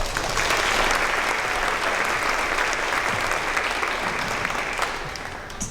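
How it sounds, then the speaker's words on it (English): An audience at a second-grade promotion ceremony claps steadily for the students, a full, even wash of applause that holds and then eases slightly toward the end. "we're still going to clap for them"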